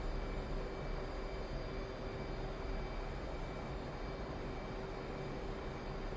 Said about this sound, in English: Increase engine RPM and enter the runway.